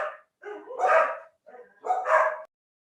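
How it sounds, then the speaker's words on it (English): Dogs bark during a virtual seminar in two close, loud clusters of rapid barks a second apart, each cluster building and then cutting off, followed by silence. "Apologies for the dogs"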